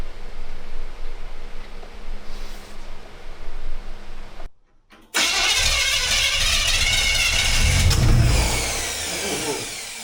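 A car engine with carburettor pre-ignition idles with a steady low hum, cuts out briefly, then catches and revs hard, swelling loud before settling back down.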